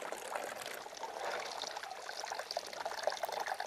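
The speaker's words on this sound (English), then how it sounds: "We are now getting a tiny amount of water coming out through here." A steady stream of water pours and trickles out of a container in a soil erosion demonstration, splashing continuously at close range with a bright, hissing texture.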